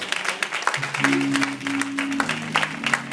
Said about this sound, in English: Clap them hands and give God the praise.